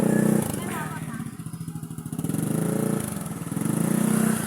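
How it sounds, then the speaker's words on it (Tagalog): Yamaha NMAX motor scooter engine while riding, a steady pulsing drone that rises and dips with throttle, close and fairly loud, with a voice talking over it. "hirap na hirap sa motor na NMAX na sobrang laki at bigat naman talaga naman"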